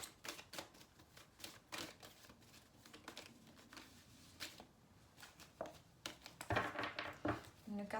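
Tarot cards are shuffled and laid down for a reading, giving a close run of quick papery flicks and taps with a few louder slaps, and a soft voice talking faintly.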